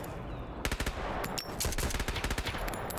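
Rapid machine gun bursts from a drum-magazine weapon in the Road to Vostok video game, several loud stuttering volleys with brief gaps, close and sharp.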